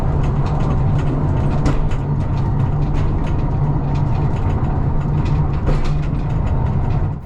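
A nearly 100-year-old Malaxa railcar running on a rural Romanian line, close and loud, with a continuous low engine drone, rattling carriage noise and rhythmic clacks from the track throughout.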